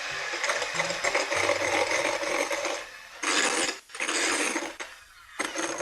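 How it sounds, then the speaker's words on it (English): An electric mixer whisks eggs toward stiff peaks for a chocolate and peppermint roulade, a loud continuous whirring buzz that cuts out briefly twice and resumes, with no talking. "to start with, you need to whisk up your eggs"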